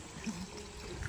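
Water pours from a tap beside a pond in a short, faint, steady trickling stream, with no voices over it.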